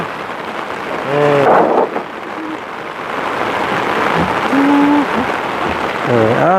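Heavy rain pounds down steadily and loudly during a storm, with people talking over the downpour at several points.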